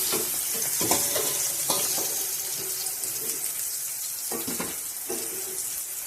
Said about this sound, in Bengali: দেখুন শিমগুলো আমার ভাজা হয়ে গেছে। এবার আমি শিমগুলো তুলে নেব।